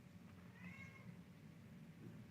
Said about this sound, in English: It's my cat in the background.